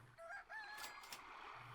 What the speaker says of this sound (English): now we bring in the rooster